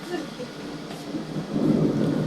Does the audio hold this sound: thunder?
yes